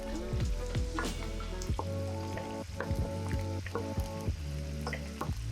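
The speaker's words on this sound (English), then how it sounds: "we add the diced onion and the garlic" Diced onion and garlic frying in olive oil with a little chili (pepperoncino), a steady close sizzle broken by scraping stirs and faint clinks, with no one speaking.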